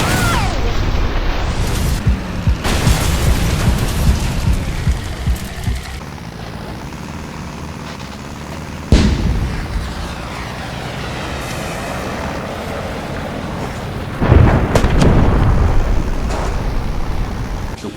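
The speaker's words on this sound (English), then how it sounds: "My god, the explosions, they sound amazing." Explosions in the vehicular combat racing game Trail Out, a loud, continuous din of roaring engines with heavy booming blasts that hit sharply at intervals and rumble away, with no talking.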